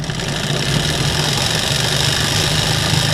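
A small DC motor from a kit runs steadily with a constant buzzing whir and a low droning hum, loud and close, alone with no talk.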